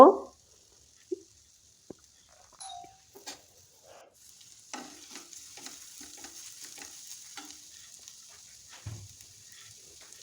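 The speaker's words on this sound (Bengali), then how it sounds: "এখন আমি নেড়ে চেড়ে দিয়েছি। এখন কিছুক্ষণ রান্না করব।" Radish chutney with raw onion and green chilli cooks in a pan: a few stirring clacks first, then a steady close sizzle with scattered spatula scrapes. No one talks.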